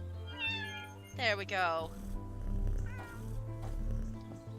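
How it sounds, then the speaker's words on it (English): A cat in the Cleaning Simulator video game meows in a rising, wavering cry, followed by a shorter second meow, with a person talking briefly over a low steady hum. "Is that the same cat as up there?"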